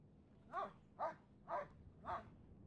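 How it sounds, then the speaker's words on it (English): A dog in the video game FiveM barks four times at an even pace, short clear woofs standing out against a quiet background. "Oh, a pretty smart dog."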